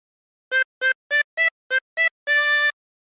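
A 16-hole tremolo harmonica plays the Yankee Doodle phrase: six short, separate wavering notes in an even rhythm, then one long held note, close and clear with silence around them.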